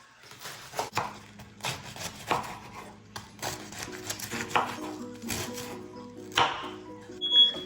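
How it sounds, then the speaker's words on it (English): Irregular knife chops on a cutting board, cabbage being chopped, sharp thuds spaced unevenly over several seconds with some scraping, close by, alongside faint background music. "Change of plans, we are chopping it."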